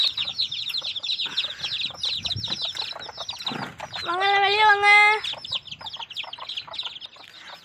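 A crowd of young chicks released from their coop keep up dense, high, rapid peeping close by, with wing flutters and a brief louder call partway through, while a person speaks over them.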